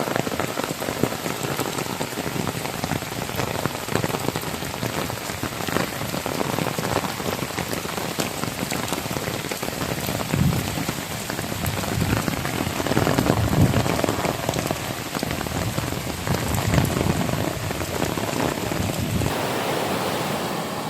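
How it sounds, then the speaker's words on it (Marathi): Heavy rain pours steadily onto a Konkan finger millet field, a dense continuous hiss and patter with no voices, swelling slightly louder midway. "पाऊस पण जोराचा आला"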